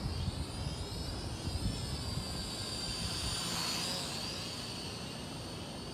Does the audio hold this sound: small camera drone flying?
yes